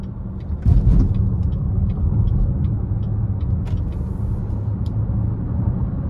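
A 2023 Chevrolet Blazer RS with the 3.6 V6 accelerating onto an interstate in tour mode, heard from inside as a steady, loud low engine and road rumble that swells slightly and holds.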